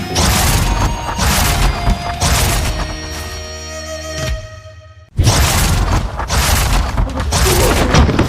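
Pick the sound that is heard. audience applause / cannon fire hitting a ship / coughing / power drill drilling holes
cannon fire hitting a ship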